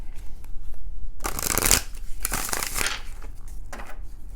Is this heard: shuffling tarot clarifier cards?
yes